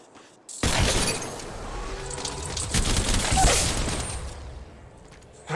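Heavy gunfire in an Apex Legends squad battle, a sustained loud fusillade of overlapping shots with sharp cracks and debris, starting abruptly after a brief quiet moment.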